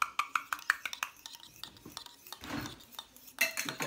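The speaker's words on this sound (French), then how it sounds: "On remue doucement et on remue bien." A utensil stirs homemade deodorant mixture with preservative added, making a run of quick light clinks and scrapes against the container, close and fairly quiet.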